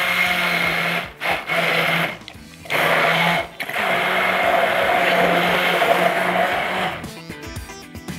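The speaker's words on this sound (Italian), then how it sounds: "Metto le verdure nel boccale. aggiungo un pizzico di sale, filo d'olio e puoi mixare." A kitchen food processor blends vegetables with salt and olive oil for carrot soup, a loud close motor whir in several bursts with brief pauses between them.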